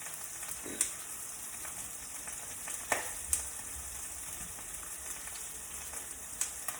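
Pork chops fry in a pan with a steady, soft sizzle and a few sharp pops and spatters scattered throughout.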